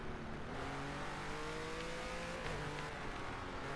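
A race car engine in a driving video game drones steadily with a sustained whine whose pitch rises and shifts gradually, heard continuously and fairly quietly throughout.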